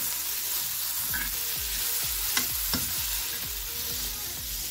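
Tomatoes fry in a hot pan of oil and spices, a steady loud sizzle broken by repeated soft scraping thuds as a spoon stirs them, close up and with no talk.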